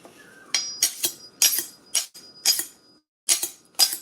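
A big kitchen knife being pulled out among other metal utensils, producing about eight sharp, close metallic clinks and rattles in quick bursts with short pauses between them.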